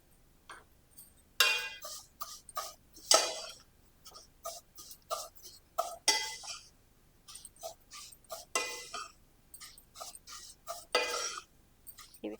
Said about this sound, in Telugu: వీటిని నేను నెయ్యిలో వేయించుకుంటాను